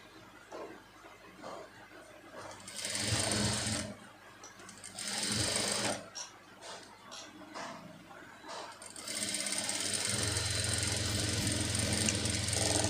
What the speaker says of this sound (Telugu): అండ్ దీన్నే డబుల్ స్టిచ్ చేసేసుకోండి ఒకసారి.